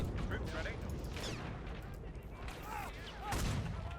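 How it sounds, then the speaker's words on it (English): German machine-gun and rifle fire from several positions in a Men of War: Assault Squad battle at Tobruk, 1941, a distant crackle of shots and booms under ongoing talk and battle noise. "the Germans firing from multiple positions"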